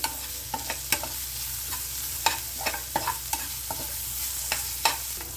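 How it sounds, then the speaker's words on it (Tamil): Green chillies, ginger and garlic sautéing in hot oil for a mushroom masala gravy, a soft continuous sizzle broken by a dozen or so sharp clicks of a spoon stirring against the pan. "இதை வந்து இப்போ நல்லா வதக்கிக்கலாம்."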